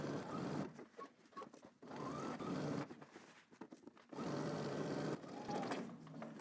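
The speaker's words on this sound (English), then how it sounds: "now I'm stitching down the side seam and under my arm" Close, fairly quiet bursts of a sewing machine stitch a garment's side seam down under the arm at a 5/8-inch allowance, the rapid needle chatter broken by short stops and fabric handling.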